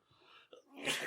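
A single sneeze close to the microphone, a short intake followed by a sharp burst of breath, during a sports podcast conversation.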